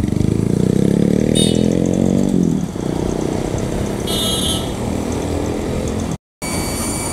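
A Honda Hornet motorcycle fitted with a custom aftermarket exhaust silencer, revving loud and close with a rising roar that drops off, then a sustained throaty idle and a short cut near the end.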